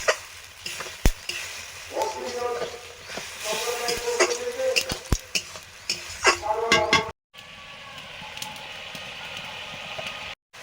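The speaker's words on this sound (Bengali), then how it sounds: "জল দিয়ে মশলাটা কষে নিচ্ছি ভালো করে।" Spice paste with added water being stirred and fried in a pan, a steady sizzle under repeated scraping and clinking of a spoon against metal, with a brief cut near the end.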